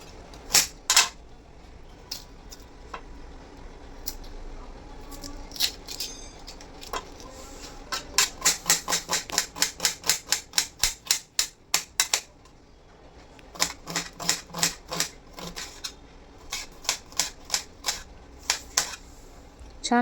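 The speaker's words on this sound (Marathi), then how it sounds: "आता एक कांदा बारीक चिरून घेऊया" Rapid rhythmic knife strikes on a cutting board as an onion is finely chopped, bursts of quick sharp taps with brief pauses between runs, close and crisp.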